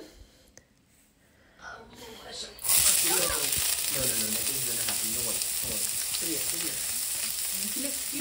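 Chopped onions hit hot oil in a pan partway through, starting a loud, steady hiss that runs to the end after a quieter opening, with a voice talking over the sizzle.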